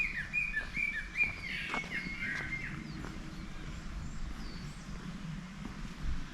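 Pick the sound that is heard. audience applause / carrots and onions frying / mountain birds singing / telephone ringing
mountain birds singing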